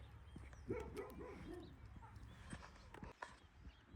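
A dog barks a few times at a moderate distance in a quiet Dutch countryside village, the short barks spaced irregularly over faint background sounds.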